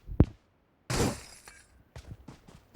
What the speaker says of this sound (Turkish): İster yumrukla, ister silahla cam kırmanız gerekiyor.